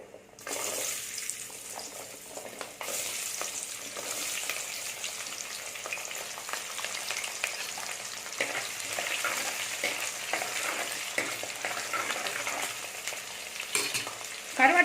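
Steady crackling sizzle of onions frying in a hot pan, with occasional stirring scrapes throughout and no voices.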